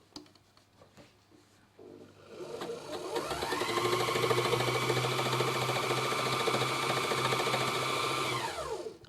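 Embellishing machine tacking fabric, starting after a few quiet seconds with a steady fast needle whir that runs at an even pitch for about six seconds, then stops, close and moderately loud.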